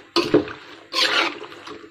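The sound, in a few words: water being poured into the cooking pot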